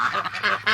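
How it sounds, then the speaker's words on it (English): Ducks sitting four together on a shared nest give close, loud quacks and honking calls in quick succession, several rasping notes packed into under a second. "4 ducks on one nest"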